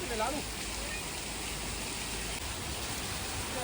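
A waterfall at a Mussoorie tourist spot makes a steady broadband rush of falling water, loud and close, with brief voices near the start.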